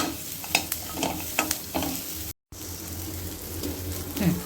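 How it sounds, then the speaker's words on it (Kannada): Chopped tomato goes into a pan of frying onion, ginger and garlic, with a steady sizzle and several clinking spatula stirs, interrupted by a brief silent gap before the frying resumes. "So tomato ಹಾಕ್ಕೊತೀವಿ."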